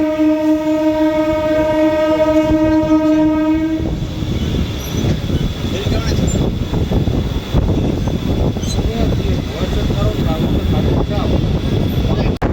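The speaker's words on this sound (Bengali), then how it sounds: "বেলঘরিয়ার 2 নম্বর প্ল্যাটফর্ম থেকে আমাদের ট্রেন ডিপারচার নিয়ে নিল" A local train's horn blares with a steady, layered tone for a few seconds, then gives way to the loud rumble and clatter of the train departing close by from platform 2 at Belgharia station.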